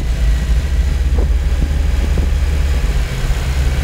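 Car engine idling close by during a Seafoam treatment, a loud steady low rumble with slight fluctuations and no talking.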